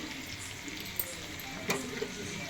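Prawns frying in oil in a pan give a quiet, steady sizzle and hiss, with a couple of soft clicks or pops breaking through.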